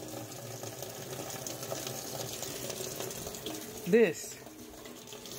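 Water runs steadily into a washing machine being filled for laundry, a low continuous rushing at close range, with a brief voice heard over it.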